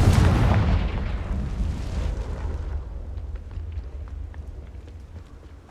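A Confringo fire spell explodes in the Hogwarts Legacy video game, opening with a loud, close booming blast that rumbles and decays into a low lingering roar.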